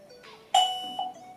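A short electronic chime from a KONX KW03 Wi-Fi video doorbell rings out, two clear bright tones in quick succession, close and fairly loud against quiet.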